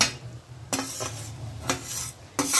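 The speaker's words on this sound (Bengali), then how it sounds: "আস্তে আস্তে নাড়িয়ে নেব, দিয়ে আমি আমার বাকি রাইসটাও দিয়ে দেবো" Rice being stirred in a pot over a low flame for sweet basanti pulao, with scraping, clinking spoon strokes against the metal at a steady slow rhythm, close up and fairly quiet, no talking.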